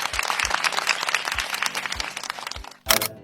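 An audience at an African football awards ceremony applauds, a dense, steady wash of clapping with a rhythmic thumping beat underneath, ending in a brief louder swell.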